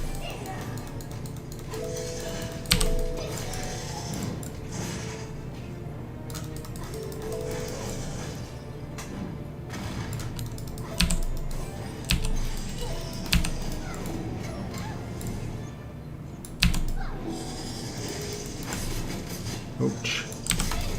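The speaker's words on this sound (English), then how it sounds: "Gotta keep clicking him." Rapid keyboard and mouse clicks from someone playing a computer game, with steady tapping running throughout and occasional louder clicks, under a gamer's talk and game sounds.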